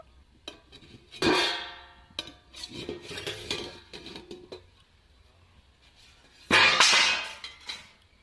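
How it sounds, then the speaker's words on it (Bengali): A lid is lifted off a bowl of semolina pudding made with milk and sugar, with two loud, close clattering clanks of dishware several seconds apart and lighter knocks between them. "ঢাকনা খুলে দেখে নেব"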